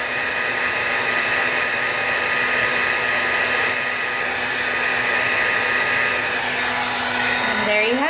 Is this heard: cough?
no